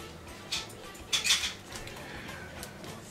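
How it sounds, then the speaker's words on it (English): Dumplings are stirred in a pot of boiling water, giving a few scraping metallic clinks of a utensil against the pot, a short one near the start and a louder cluster soon after, over a low bubbling hiss, with no talk. "And keep stirring them, make sure they're not sticky to the bottom."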